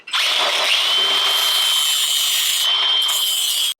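The edge of a Triumph GT front valance is trimmed with a loud, close, rasping grind that holds steady for several seconds, then cuts off abruptly.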